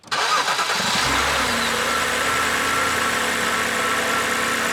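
BMW E92 engine running steadily after start-up, with a faint fast ticking from the hydraulic lifters under an even mid-pitched hum. Close and continuous, with no talking.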